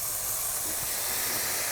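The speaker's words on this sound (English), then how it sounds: "you can hear it. The sizzling will start to slow down." Steady bright sizzling hiss from Lion's Mane mushroom steaks being pressed in a hot frying pan, continuous and fairly close, with no talking.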